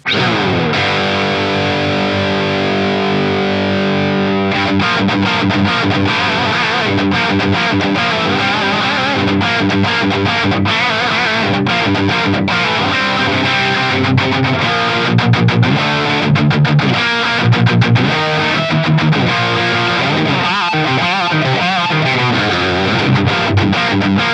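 Heavily distorted electric guitar through a high-gain CCV2A amp model on an FAS unit with a 212 cab and Greenback speaker, playing chugging riffs and sustained chords, loud and upfront, with no voices.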